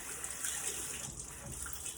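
Warm water runs steadily from a tap onto a muslin cloth, a continuous close splashing flow with no talk.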